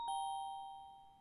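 A doorbell sounds a single clear, ringing chime that decays slowly over about a second, close and alone, in a game setting.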